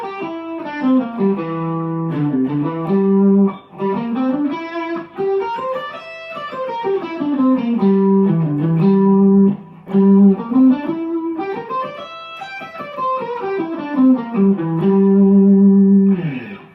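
An electric guitar with effects runs up and down the Dorian pentatonic scale in all positions, clean sustained single notes rising and falling in repeated sweeping patterns, close and without talk.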